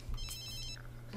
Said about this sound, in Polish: O, dzwoni nasza koleżanka Tiara.